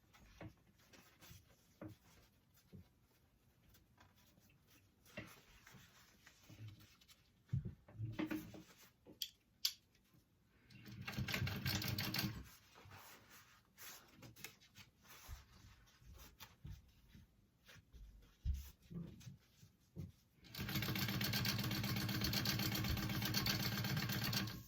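A sewing machine top stitching a tote bag, two sustained whirring runs of stitching between quiet stretches of handling clicks and fabric movement.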